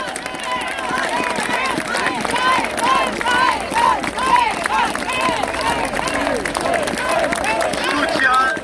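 An outdoor crowd at a Paris street demonstration applauds in support of Professor Christian Perronne, sustained massed clapping with scattered cheers and babble while an amplified voice talks over it.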